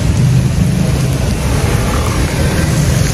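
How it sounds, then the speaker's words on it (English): Steady rain falling outside at a school, a dense continuous wash of noise with a low rumble underneath, loud and unbroken throughout, with no talking. "it's raining"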